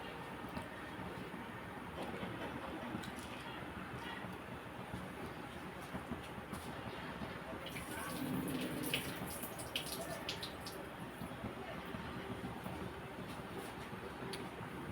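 A pot of water, rich with coconut milk, simmers at a rolling boil before rice goes in, giving a steady broadband bubbling wash throughout with a slight swell midway and no voices.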